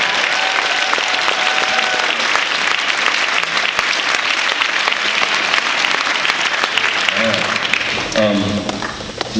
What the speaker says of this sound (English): Would those people please stand up and be recognized and give them a round of applause?